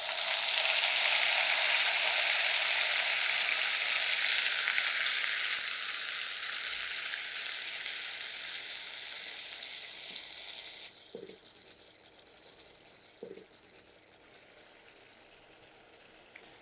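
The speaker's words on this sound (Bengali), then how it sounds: "এটা হালকা একটু 2 মিনিটের মতো কষিয়ে নেবেন" A blended onion and nut paste sizzles in a pan with a bright, steady hiss that fades partway through and gives way to a quieter simmer, broken by a few soft clinks.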